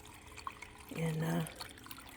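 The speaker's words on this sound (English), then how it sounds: "listen to the water." A small backyard garden water feature trickles softly and steadily beside a deck, with a voice heard briefly in the middle.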